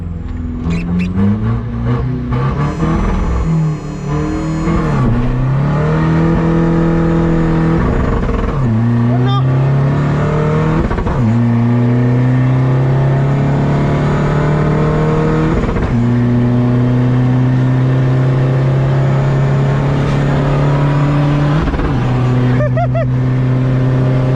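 A modified race car fitted with a 44 turbo accelerates hard on a road test, its engine rising in pitch through several gear shifts and roaring loud and steady from up close.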